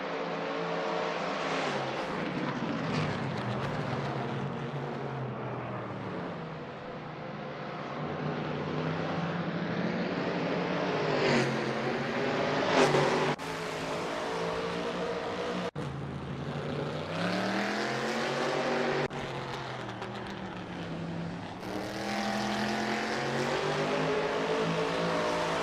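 Shelby Mustang race cars hot lapping at Virginia International Raceway on the full layout, their V8 engines droning and swelling as they accelerate and shift, a steady distant-to-near roar with rising and falling pitch.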